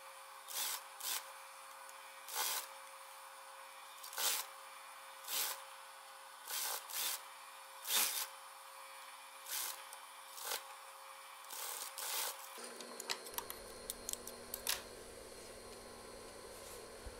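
A sewing machine stitches school trousers in short repeated bursts of whirring with quiet gaps between them, then shifts to a steadier, lower hum with light clicks near the end.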